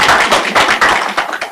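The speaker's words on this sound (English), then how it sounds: "Can we give her a round of applause?" A live audience at a book talk on colonial fatherhood claps for the author, a dense burst of applause with no voices on top, close and fairly loud throughout.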